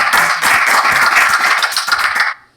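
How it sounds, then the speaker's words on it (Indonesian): Dense, loud applause from an audience greeting Ustadz K, steady clapping that fills the space for over two seconds before cutting off abruptly. "Tepuk tangan buat Ustadz K."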